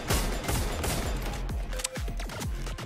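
Rapid gunfire from the game Free Fire, rounds striking a frying pan, loud close bursts of shots with metallic pings and clanks, one after another with no pauses and no talking.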